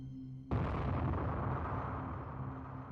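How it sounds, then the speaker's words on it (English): A deep, rumbling explosion from the visual novel game Chaos;Child, a sudden loud blast with a broad roar that slowly decays over a few seconds, heard alone without speech. "This time I heard an explosion coming from the track downstairs."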